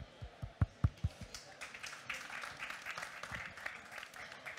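A coffee conference audience claps: a few loud, separate claps open, then softer scattered applause follows, fairly quiet and a little distant.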